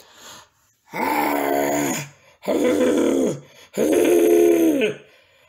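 A voice imitates a dog howling: three long, wavering cries, each about a second, separated by short pauses.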